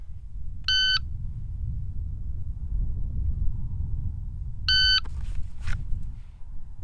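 A shot timer at a shooting range gives two short electronic beeps, one early and one near the five-second mark, over a quiet low background with a faint click or two after the second.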